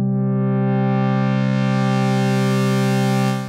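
Sustained low synth note from the Ableton Wavetable sub-oscillator with the tone knob raised, a buzzy, harmonically rich drone held steady for a few seconds before fading slightly, with no voices.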